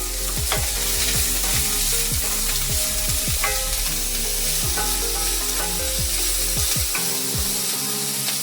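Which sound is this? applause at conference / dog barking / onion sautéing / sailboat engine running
onion sautéing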